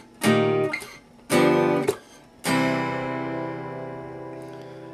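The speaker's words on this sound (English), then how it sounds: "the rhythm guitar, doing the support chords behind that" Rhythm guitar playing the supporting chords of a song: three strummed chords, the first two short and cut off, the third left ringing and slowly fading, close and clear with no voices.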